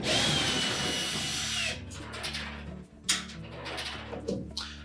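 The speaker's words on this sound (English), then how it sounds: "We're going to remove the screws that secure the hinge to the cabinet." A power screwdriver backing Phillips screws out of a Whirlpool dryer's door hinge on the cabinet, a loud, steady whirring drive that cuts off partway, then short bursts of spinning and metallic clicks as the screw comes loose.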